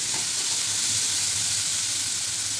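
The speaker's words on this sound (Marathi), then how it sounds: "छान गोल्डन होईपर्यंत कांदा परतून घ्यायचा" Chopped onion frying in hot oil in a home kitchen pan, a loud steady close sizzle and hiss with no talking.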